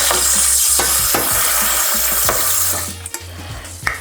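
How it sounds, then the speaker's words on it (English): Water poured into a hot pan during meal prep cooking sets off a loud, steady sizzle with clinks of utensils, fading to quieter bubbling and a few knocks toward the end. "add some water in it."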